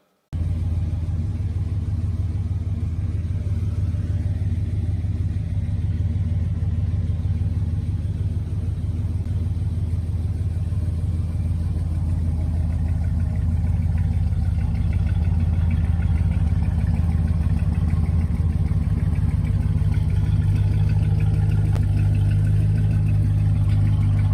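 Classic Chevrolet Camaro Yenko V8 engine idling, a deep steady low rumble that runs loud and unbroken with slight revving near the end and no talk.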